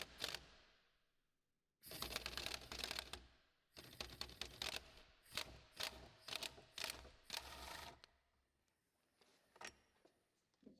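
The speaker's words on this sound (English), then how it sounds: "now we're unscrewing the motor mount or motor bracket with a 16mm socket" A ratchet with a 16mm socket clicks in quick rapid bursts while unscrewing motor mount bolts on a VW Golf 5, close and crisp, with short silent gaps between turns.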